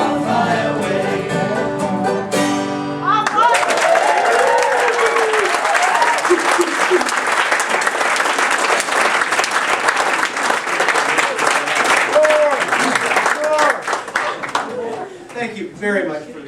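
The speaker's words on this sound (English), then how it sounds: "Thank you very much for the applause." At a bluegrass jam camp all-star concert, music ends and an audience bursts into loud, sustained applause lasting over ten seconds, with voices and shouts mixed in before it dies down.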